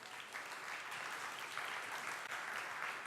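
Steady applause from a church congregation during an evening service, a dense, even wash of clapping filling the whole stretch with no voices over it.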